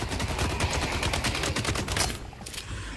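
Rapid bursts of gunfire in The Cycle: Frontier, a dense stream of loud, close shots for about two seconds, then a few scattered trailing shots fading out.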